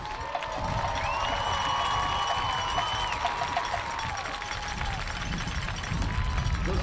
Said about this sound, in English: Please give a big round of applause for our senior band members.